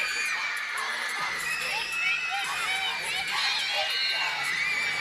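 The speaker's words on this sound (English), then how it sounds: "Now the crowd level has certainly picked up." A volleyball arena crowd at an NCAA women's match cheers and shouts continuously, a dense, lively roar with high voices and occasional thumps, while a commentator talks over it.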